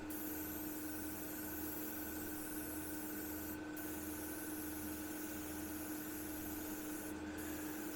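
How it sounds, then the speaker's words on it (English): An airbrush sprays RLM65 paint from a held-back distance onto the underside of a Revell 1/32 He111 model airframe, giving a steady, continuous hiss over a low rhythmic compressor thrum for the whole stretch, with no talking. "we're just holding back from the airframe to get that diffused spray pattern"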